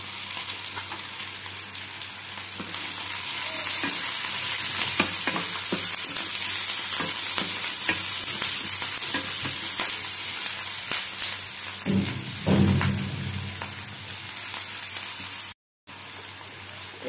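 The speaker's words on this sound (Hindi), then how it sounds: "पियाज एथिरे भाजी आसले एथिरे कटा रसुण, अदा आ कंचा लंका को दबा।" Sliced onions with chopped garlic, ginger and green chili frying in a pan for chilli cabbage, a steady loud sizzle with occasional stirring scrapes and a brief clatter near the end.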